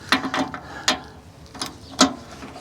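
Ratchet clicks in short bursts while an engine mount bolt is snugged down on a 2003 Volvo XC90 D5, four or five separate sharp mechanical ratcheting strokes spaced apart, close and fairly loud with quiet gaps between.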